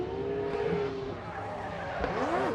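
A Mazda RX-8 rotary drift car at a Formula Drift event slides wide through the final clip, tires squealing and skidding steadily with engine roar and a curving squeal near the end, heard from a distance with faint crowd-level background.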